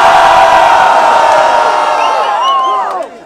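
A crowd at a Brazilian freestyle rap battle semifinal in Barueri cheers, roaring and whooping loudly and close up, then fades out over about three seconds.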